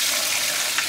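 Water drains from a home swimming pool as a brief, steady, close rushing hiss with no talking.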